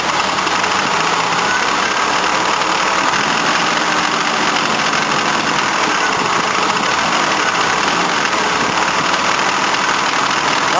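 An old car engine running rich on LPG idles roughly and loudly, a steady close rumble with an uneven, knocking vibration throughout.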